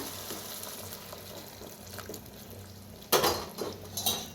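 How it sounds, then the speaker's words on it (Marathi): Hot water is poured into a pan of spicy brinjal curry, a sudden splashing rush near the end after quieter clinks of kitchenware, close by. "गरम पाणी ओतूया."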